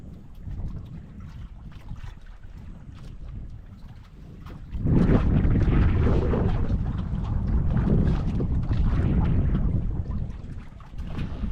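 Strong wind buffets the microphone in low rumbling gusts, growing louder and more forceful partway through and staying heavy to the end.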